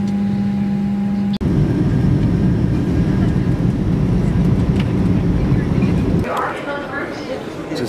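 Steady low rumble and roar of an airliner rolling along the ground after touching down in Phoenix, Arizona, heard from inside the cabin; a tonal hum cuts off early, and the roar drops away near the end as voices begin.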